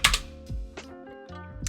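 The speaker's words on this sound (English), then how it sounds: "I'm just going to type in use 1." A handful of crisp keystrokes on a computer keyboard as a short command is typed, close and clear, irregular taps with no talk.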